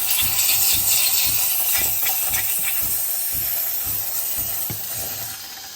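A Sage espresso machine flushes water out the back with a steady, loud steamy hiss and a faint rhythmic pumping throb underneath, easing slightly toward the end.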